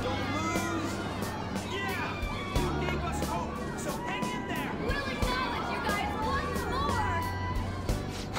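A crowd of humans cheers in the Yaldabaoth boss fight of a video game, a dense babble of many voices with rising excited calls, steady and moderately loud throughout.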